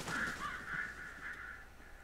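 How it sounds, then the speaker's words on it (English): Crows caw in the horror video game Alan Wake, a steady run of harsh calls blending into an ambient wash at moderate, somewhat distant level. "Birds."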